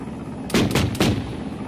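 Helicopter-mounted cannon fire in the military video game Arma 3, two heavy booming bursts in quick succession, loud and close, each with a short rumbling tail, with no talk over them.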